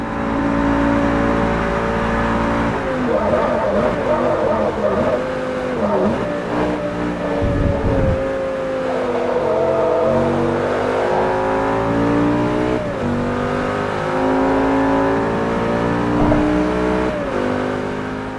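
Race car on the Le Mans track in a racing video game, engine whining and rising through gear changes with repeated shifts and brief dips, loud and continuous without talk.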